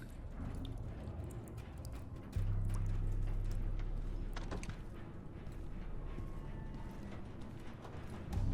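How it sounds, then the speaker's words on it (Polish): Horse patrol hooves in Call of Duty Modern Warfare III: irregular clip-clop of hooves moving over ground, set against a low, steady ambient rumble that rises partway through, no talking over it. "Patrol koni blisko twojej pozycji."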